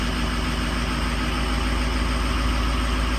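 A 2003 Adams diesel engine with an ICP voltage fault runs at high idle, making a loud, steady, close drone with a constant low rumble and no talk.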